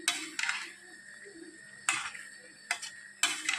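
Spoon scraping and clinking in a pan while a mixed vegetable and paneer curry is stirred, several short bursts of scraping separated by quiet gaps, close and fairly soft.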